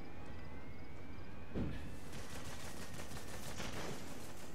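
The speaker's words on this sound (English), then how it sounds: "Is he actually trying to shoot me through the wall?" An enemy soldier in Metal Gear Solid V fires a gun through a wall, a few faint, distant shots under a steady game ambience, with one sharper burst standing out.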